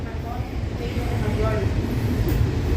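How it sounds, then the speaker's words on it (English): A metro subway train starts to move, a low rumbling hum with faint rising motor tones as it picks up speed, while a person talks over it. "I'm on the train. It's a metro."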